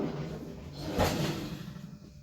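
A kitchen drawer holding spices slides open with a soft rumbling scrape that peaks briefly mid-clip against a low room hum, close by and moderately quiet.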